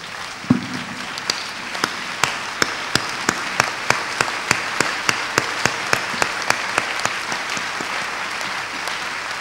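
A church congregation applauds the Lord during a Togolese service, a steady run of sharp, evenly spaced claps throughout with a light crowd bed and no speech.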